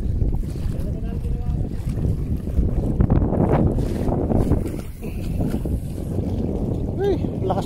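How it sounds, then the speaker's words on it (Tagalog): Strong gusting wind buffets the microphone on open water during a fishing trip from a boat, a rough low roar throughout with voices talking over it. "Ay, lakas ng hangin."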